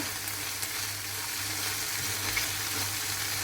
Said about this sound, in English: I'll keep frying them until my soya chop turns into golden brown.